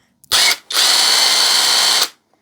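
Power tool removing rusty shock absorber bolts from a van: two loud, close bursts of whirring, a short one then a longer sustained run lasting over a second, with a brief pause between them.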